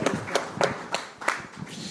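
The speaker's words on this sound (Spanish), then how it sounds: "Un aplauso a Pedro Villagra G20, Delgado, Pedro Sherpa Villagra del B20 en ese momento y el G20." A few audience members clap at a business leaders' forum to honour a G20 sherpa, sparse, slightly irregular claps spaced about a third of a second apart, fairly faint and close.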